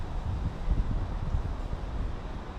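Steady low wind rumble buffeting the microphone, with gusty surges throughout and no talking.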